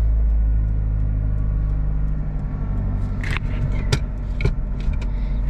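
Subaru Vivio RX-R small engine idling while warming up, a low steady rumble close by that eases after a heavy start, with a few brief clicks and rattles toward the end.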